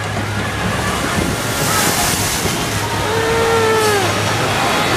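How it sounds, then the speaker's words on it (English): Water splashing from a log flume ride at Kings Island amusement park, a steady broadband rush of spray and churning water with a low hum beneath and faint voices crying out in the crowd. "I kind of want to really do this log ride, but at the same time I don't want to get that wet"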